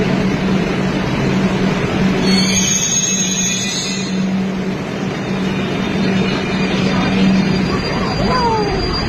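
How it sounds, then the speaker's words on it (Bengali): A Kolkata metro train pulls into the station with a loud continuous rumble, a steady hum and high wheel or brake whines, while people talk on the platform. "ট্রেন চলে এসছে,"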